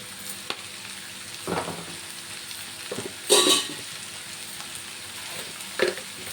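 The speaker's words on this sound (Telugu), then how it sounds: "కొంచెం కారం, వేసుకొని కొంచెం కలపాలండి బాగాను" Chili powder and salt being stirred into food frying in a pan: a steady soft sizzle with a few brief scraping stirs at intervals, no talking.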